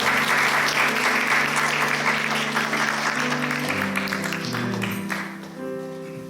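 A church congregation gives sustained, full-room applause to welcome visitors during a Sunday service, with a sustained musical tone beneath the clapping that fades toward the end.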